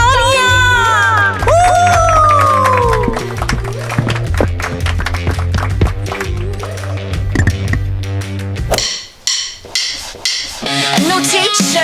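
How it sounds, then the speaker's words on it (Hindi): An audience at a school rock band show cheers loudly, with rising whoops and shouts over scattered clapping, then a noisier crowd burst toward the end. "प्लीज तालियां।"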